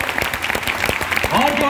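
Scattered, fairly soft clapping from a small audience in a room, individual claps audible as separate hits, with voices talking over them.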